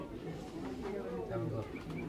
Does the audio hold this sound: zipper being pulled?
no